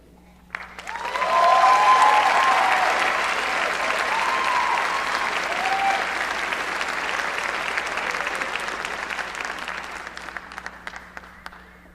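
Commencement crowd at SMU applauding awardees, a large audience swelling into sustained clapping with a few brief cheers early on, then gradually thinning out.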